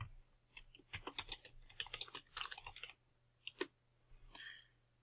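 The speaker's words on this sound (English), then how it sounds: "all you have to do is type your answer directly into the newly created MindMap idea" Computer keyboard keys clatter in quick, irregular bursts as an answer is typed into a mind-map idea. The soft typing is close and quiet, with a brief pause and a few final clicks.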